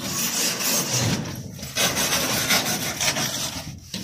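Cloth wiping powder off a surface, a steady close rubbing and scraping that runs continuously with brief pauses, no talking.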